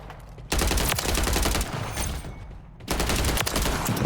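Loud, rapid automatic gunfire from the video game Warzone, sustained bursts filling most of the moment with a brief lull in between.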